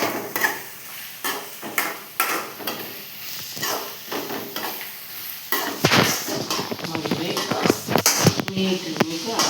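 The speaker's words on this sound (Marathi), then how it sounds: "सोया बॉल्स घालून चिकी भाजू" Soya chunks roasting in a pan, with steady sizzling and repeated scraping stirs of a utensil against the pan close up, while a person talks.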